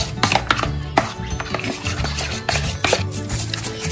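Ingredients for a shrimp dish with lemon are stirred together in a bowl, with a spoon clinking and scraping against the sides in an uneven rhythm, close and fairly loud, and no talking.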